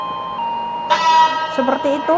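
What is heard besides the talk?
train horn sounded in TSA train simulator video game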